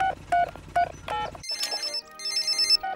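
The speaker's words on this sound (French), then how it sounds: "Allô? Allô, papa Pig?" A cartoon telephone rings in a bright, electronic ringtone pattern, several short repeated trills, clear and alone before a pause and a higher warbling tone.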